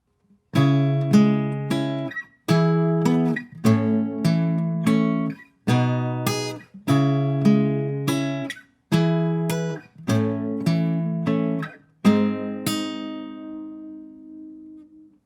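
A guitar fingerpicks the chords of a song as a repeating pattern of about eight plucked chord groups, each with a short pause between. The last chord rings out and fades, clear and close.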